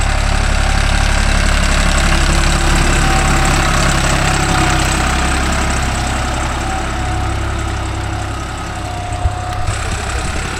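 A new Deutz-Fahr Agrolux 50 hp tractor with a 15+15 gearbox runs steadily at close range, its diesel engine giving a loud, continuous low rumble and chug with no speech.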